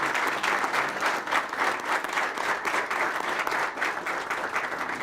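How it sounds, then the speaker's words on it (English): A school speech and prize-giving day audience claps warmly for several seconds, a dense, even wash of applause with no break. "Can we give them a round of applause?"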